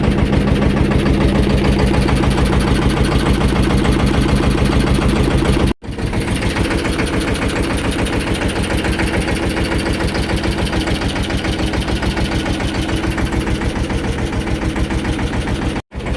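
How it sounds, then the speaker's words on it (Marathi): A tractor engine runs steadily at close range with an even chugging rhythm, pausing briefly twice, once midway and once near the end, before resuming, with no voices over it. "आता ते ट्रॅक्टर घेऊन समाधान आणि अर्जुन जातात वरती खत भरायला,"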